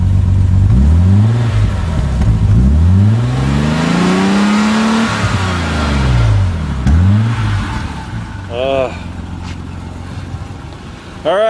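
Early BMW M6 inline-six engine revving up and down in several loud, close sweeps, followed by quieter idling and a brief whine.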